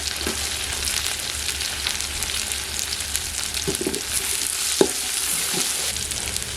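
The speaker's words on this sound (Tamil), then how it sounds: "இது கூட வந்து பச்சை மிளகாய் சேர்த்துக்கலாம்" Onions, curry leaves and green chillies sauté in a hot pan, a steady close sizzle and crackle of frying broken by a few sharp pops and clinks of stirring, with no voices.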